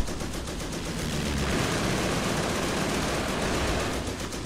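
Airstrike explosions in the World War II strategy game Company of Heroes, a dense sustained roar of blasts and rattling fire that holds loud and steady throughout, with no voices over it.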